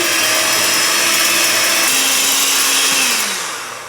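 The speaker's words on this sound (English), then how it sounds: "we're going to take our egg whites and we're going to whisk them until they're light and frothy" Egg whites for French macarons whisked with an electric mixer, a steady loud motor whir that drops in pitch near the end and fades as it winds down, with no talking.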